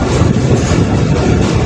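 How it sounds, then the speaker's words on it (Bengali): Old Titumir Express passenger train running between Chilahati and Saidpur, heard from inside as a loud, dense, steady rumble with a constant rolling roar and no talk. "ট্রেনটি পুরাতন হলেও ট্রেনটির জনপ্রিয়তা অনেক।"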